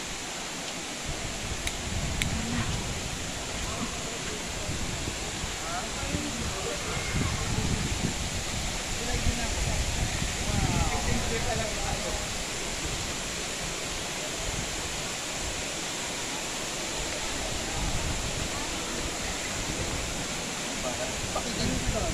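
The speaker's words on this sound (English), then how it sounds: "Tumalog waterfalls." Tumalog waterfall in Cebu, a steady broadband roar of falling water that continues evenly throughout, with only slight swells in level.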